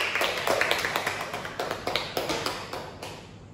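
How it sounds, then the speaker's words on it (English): Scattered hand clapping from a small group, uneven and fading toward the end. "give applause for all students today"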